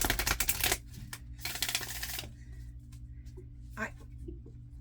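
Quick riffling bursts of tarot cards being shuffled, two loud flurries followed by quieter handling and faint taps.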